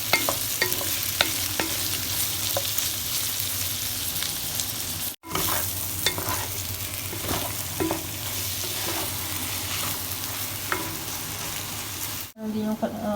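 Rice and leftover takoyaki fry in a hot pan with a constant loud sizzle, while a utensil scrapes and stirs in irregular strokes close by, with two brief breaks in the sound.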